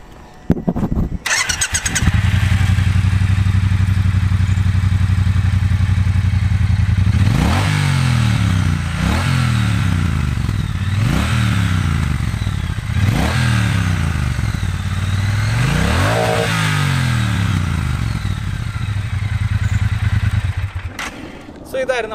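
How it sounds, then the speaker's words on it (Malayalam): A Triumph Bonneville T120 motorcycle starts up and settles into a loud, close idle, then its exhaust note rises and falls through about six sharp throttle blips before dropping back to idle. "ഇതിൻ്റെ ഒന്ന് എക്സോസ് നോട്ട് ഞാൻ കേൾപ്പിക്കാം"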